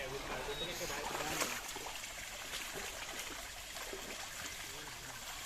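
Water pours continuously from a spring spout at Chilikala Gutta, a hillside shrine near Medaram, giving a steady broadband rush throughout, with people talking over it.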